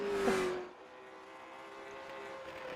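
Late model race cars run on track during qualifying, with a loud engine whine passing close at the start, then a softer, more distant drone of several cars circulating, and no voices over it.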